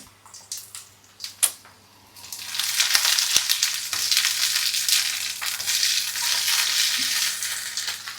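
Oil spatters and sizzles steadily as food fries in a home kitchen pan, a loud continuous crackling hiss that swells after a few quieter opening seconds, with no talking.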